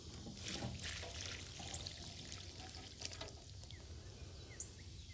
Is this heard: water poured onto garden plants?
yes